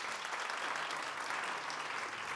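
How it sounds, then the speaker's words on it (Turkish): An audience at a media and artificial intelligence event bursts into steady, dense applause, a continuous wash of clapping heard on its own for a couple of seconds. "Bir moral alkışı olsun hepimize."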